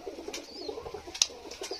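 Soft pigeon cooing close by on a rooftop, a low murmuring call with a faint chirp and a brief click partway through.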